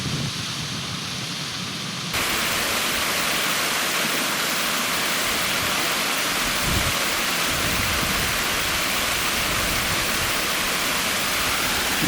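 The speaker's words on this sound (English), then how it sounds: "There's a little waterfall there." A small waterfall on a river beside a stone wall in a wooded glen on the North York Moors, a steady close rushing roar of falling water that swells after the first two seconds and continues unbroken.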